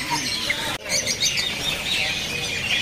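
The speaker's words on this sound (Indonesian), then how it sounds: "Di kios ini ada juga burung terucuk ya." Bright yellow-vented bulbul chirps and calls ring out continuously amid a busy bird-market background, with a brief dropout partway through; no one speaks.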